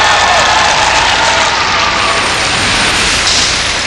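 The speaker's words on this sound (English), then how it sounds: "Sympathetic cheer. One of support from this crowd, but certainly not a victorious cheer." A large arena crowd at a figure skating competition gives a sustained, sympathetic cheer and applause, a dense roar that holds steady at full volume throughout without rising to a triumphant peak.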